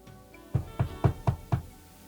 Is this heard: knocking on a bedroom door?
yes